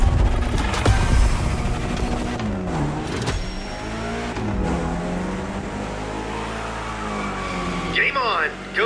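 A Mitsubishi Lancer Evo X drifts through city streets in Crew Motorfest, its engine revving and swooping in pitch with tire squeal near the end, while a voice talks over it.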